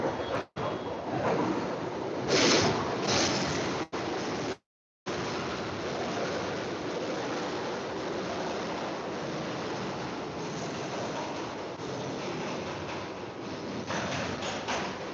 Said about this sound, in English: Train's loud